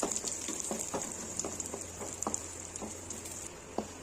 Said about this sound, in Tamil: இப்போ வந்து நட்ஸு கொஞ்சம் ஃப்ரை பண்ணிக்கலாம்.